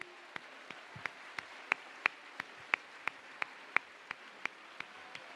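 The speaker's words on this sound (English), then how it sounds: "could we have another round of applause for our volunteers and organizational team" Slow, sparse handclaps from a small audience honoring volunteers and organizers at a jigsaw puzzle championship teams final, about fifteen distinct claps spaced evenly, fairly close over a quiet room.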